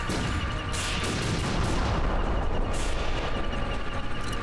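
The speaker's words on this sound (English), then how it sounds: "So he took 25 hits from the pineapple grenades." Pineapple grenades explode one after another in the video game Ape Escape 3, a dense, continuous barrage of loud booms and blasts with no pause or speech.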